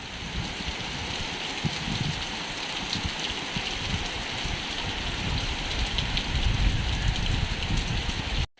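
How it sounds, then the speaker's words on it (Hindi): Steady rain falls and patters on surfaces outdoors, a dense continuous hiss that holds at an even level throughout before cutting off abruptly at the end. "पर बारिश अच्छी आ रही है आज।"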